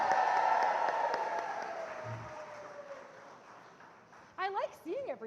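A live audience at a premiere event applauds and cheers for a photographer, loud at first and then fading away, before a voice begins talking over the last second.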